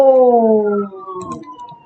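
Fire truck siren in a Roblox game, a loud synthetic wail with stacked tones that glide steadily downward, then fade under scattered game clicks and noise.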